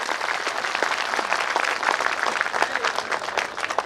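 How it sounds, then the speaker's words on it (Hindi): A large crowd at a public gathering claps steadily and loudly, a dense wash of many hands sustained for several seconds with faint voices underneath. "एक बार जोरदार ताली अपने लिए।"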